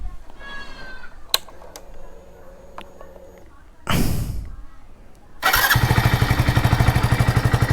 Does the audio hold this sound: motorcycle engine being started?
yes